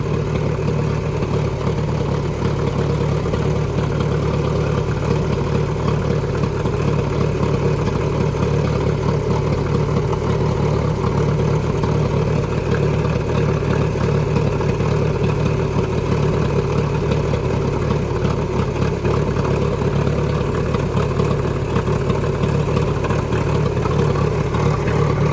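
A 1931 McCormick Deering Industrial 20 tractor with a Trackson crawler conversion runs steadily, its engine giving a continuous low, rumbling drone nearby with no talk over it.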